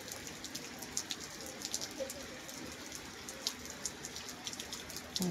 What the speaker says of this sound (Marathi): पाऊस पण खूप पडतोय.